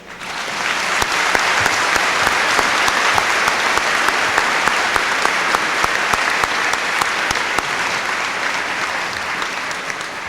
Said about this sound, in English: let's give a big round of applause in absentia to Charlie Cochran.